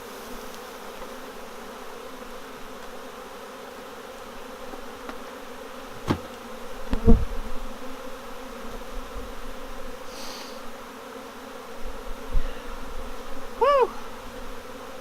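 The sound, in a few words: swarm of honey bees buzzing around a hive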